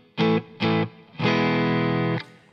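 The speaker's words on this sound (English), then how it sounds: "I'm running a Visual Sound Comp 66 compression pedal." An electric guitar runs through a Visual Sound Comp 66 compression pedal into a Rivera Silent Sister isolation cabinet with a Vintage 30 speaker. It plays two short, loud, overdriven stabs, then one longer sustained chord, with no voices.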